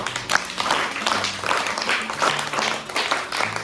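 Third-grade students in a village school classroom clap together in a dense, continuous round of applause lasting a few seconds, with some voices mixed in.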